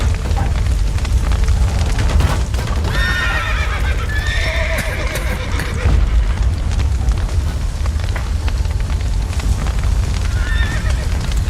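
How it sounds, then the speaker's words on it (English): Horses in The Witcher 3 video game neigh and whinny repeatedly amid hoof clatter, loud and close over a roaring fire in a burning building, with no talk. "The horses!"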